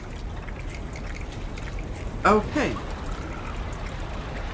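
Low, steady wash of water rises in the Limbo video game, a continuous watery rush sitting under the ambience while someone briefly speaks over it.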